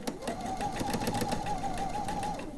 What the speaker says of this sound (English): So I can just run these through the sewing machine as well.